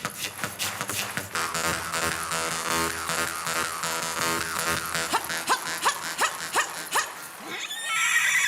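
A jaw harp performer on a talent-show stage plays quickening twangs that build into a horse-like whinny, with the instrument imitating the neigh in loud, close, rhythmic bursts toward the end.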